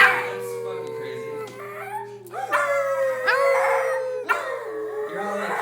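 Two dogs howl in long rising and falling wails, several overlapping howls close to the microphone, with short yips between them.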